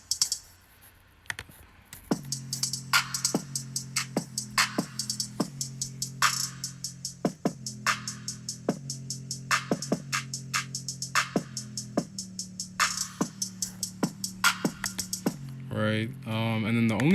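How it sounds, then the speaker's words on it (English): A drum pattern programmed in FL Studio plays steadily with punchy kicks, snappy hits and fast ticking hats, a repeating loop that changes near the end. "So altogether, the drums so far sound like this."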